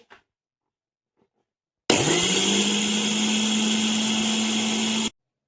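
Electric kitchen mixer grinder grinding coarse semolina into fine rava, a loud, steady whirring roar that starts abruptly after near silence, runs for about three seconds and cuts off sharply.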